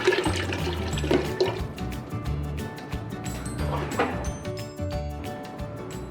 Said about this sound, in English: Add water. In here I'm using quite a big amount of water because the pressure cooker will reduce the water.